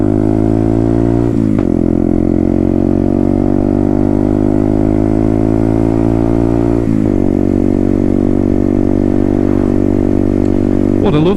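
Herald Maverick 125cc motorcycle being ridden, a loud, steady engine drone with rising pitch as it pulls, interrupted by two brief dips where the rider shifts gear, heard close and continuous throughout.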